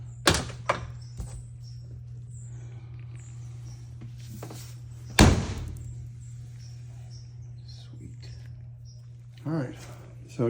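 A Polaris Ranger 1000 side-by-side door fitted with a new weather seal shuts with a solid, muffled thunk. A few quieter clicks and bumps come before it and a brief handling sound follows, with a faint steady hum throughout.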